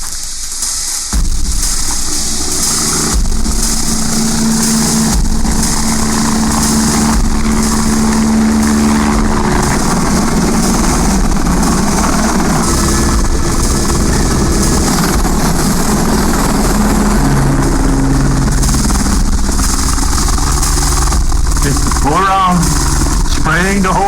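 A helicopter spraying chemicals over forest plantations drones with a steady, loud engine and rotor hum running throughout, while someone talks over it.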